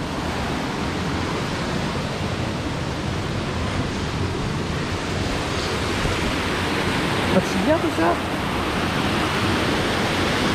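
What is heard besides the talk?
waterfall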